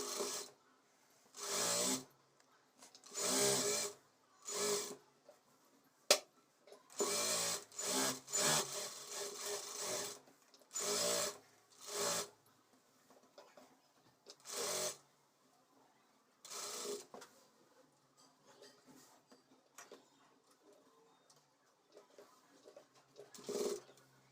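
A sewing machine stitching a chudidar top, running in short separate bursts of a few seconds each with quiet pauses between, close by.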